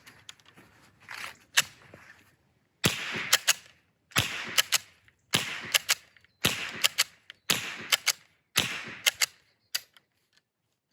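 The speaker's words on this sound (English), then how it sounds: "So let's get rid of this one and continue with the shooting." A BRNO ZOM 451 straight-pull rimfire rifle firing, with a sequence of sharp close cracks and clacks from working the bolt, arriving in regular clusters and separated by brief silences.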